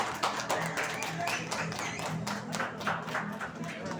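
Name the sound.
audience clapping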